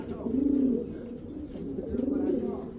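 Pigeons coo in two soft, rolling phrases close by, a low, throaty murmur with a short pause between them.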